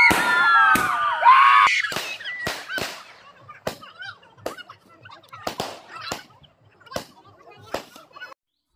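Firecrackers set off at a wedding as the groom's party arrives burst in a string of sharp cracks, a loud dense cluster at first, then scattered pops at irregular intervals, with honking and bird-like squeals mixed in early on.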